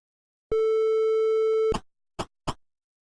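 Telephone tone from the Maniac Mansion video game after the repaired phone is picked up: one steady electronic tone held for just over a second, then a few short clicks or bursts. No speech.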